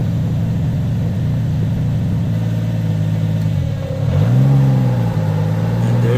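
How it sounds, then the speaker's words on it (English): A car's electric radiator cooling fan switches on beside an idling engine, adding a steady whir as the engine note dips and settles. Close and fairly loud, with no talking. "193, the fan should kick on."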